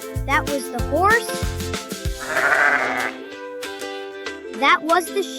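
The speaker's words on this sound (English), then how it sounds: "That was the sheep." Sheep bleating in a children's farm-animal sound game, a single wavering bleat around the middle over light, rhythmic background music that drops out briefly after it.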